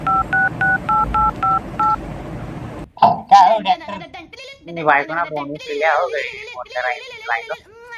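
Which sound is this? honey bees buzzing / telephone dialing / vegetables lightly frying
telephone dialing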